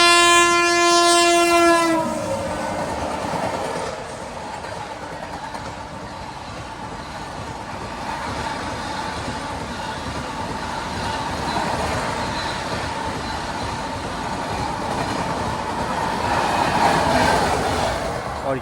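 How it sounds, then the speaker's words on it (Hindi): A passing train on an Indian railway line near Sukhi Sewaniya sounds a long horn blast, then rolls past with a sustained rushing rumble and wheel clatter for many seconds while another train stands waiting. "यहाँ पे एक और ट्रेन ओवरटेक कर रही है अपने को।"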